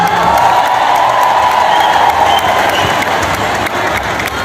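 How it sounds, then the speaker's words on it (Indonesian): An audience at an Indonesian Christmas celebration gives steady, dense, loud applause from a large crowd, continuing throughout, with faint voices and cheers mixed in. "boleh kita berikan tepuk tangan yang paling meriah untuk Ketua Panitia Natal kita, Bapak Sukurna Baban"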